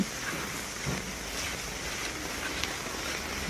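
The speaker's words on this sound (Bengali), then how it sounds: "দেখেন, বৃষ্টি আর বৃষ্টি।" Heavy rain pours down outdoors over streets, a continuous broadband wash of steady hiss and patter without voices.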